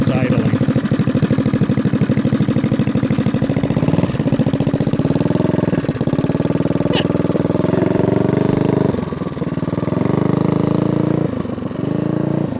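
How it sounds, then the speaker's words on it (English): Big-bore Tillotson engine on a mini bike idles with a steady mid-pitched chug, loud and close. The tight belt gives it an occasional slight surge, and a voice is heard over the engine. "So we have a belt on this thing that's so tight, it just wants to go when it's idling."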